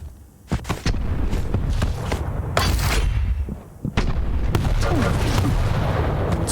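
Rocket launcher blasts and explosions in a Quake World Championship duel, several loud booming bursts in quick irregular succession over a dense din of game action.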